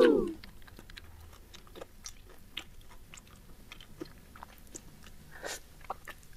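Someone bites into and chews lemongrass fried chicken, faint crunchy bites and soft chewing sounds close by in a quiet room, with no talking over them.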